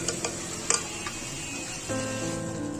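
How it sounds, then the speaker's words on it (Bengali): Chana dal and potato curry sizzle in a pan while a spoon stirs it, with a few sharp scraping ticks early on and then a steadier frying hiss. "ছোলার ডালটা আলুর সঙ্গে খুব ভালোভাবে মিক্স করে নিতে হবে।"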